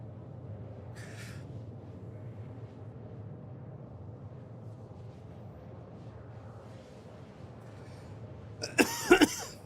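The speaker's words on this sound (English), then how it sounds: "you're probably going to hear me coughing quite a bit, like more than normal." Near the end a person coughs a few times in quick succession, loud and close, after a stretch of quiet room hum.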